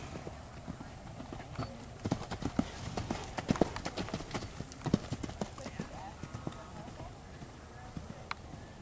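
Hooves of a horse clip-clop in an irregular rhythm, sharper strikes clustering midway, while a rider speaks encouragingly over the steps at close range.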